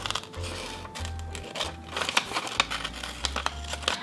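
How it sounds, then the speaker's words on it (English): Scissors snip a sheet of craft paper in half while making a Father's Day shirt-and-tie craft: a close run of crisp crinkling cuts and clicks over a low steady hum. "So with the scissors, just cut this in half"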